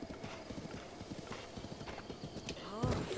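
Horse in Zelda: Breath of the Wild trots with steady clip-clop hooves throughout, ending in a brief whinny, while a player talks over the game sounds.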